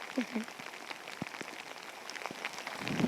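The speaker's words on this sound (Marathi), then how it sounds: "लय पाऊस आला" Rain falling on open farmland, scattered droplet taps and patter over a soft hiss, with voices and sheep sounds briefly audible.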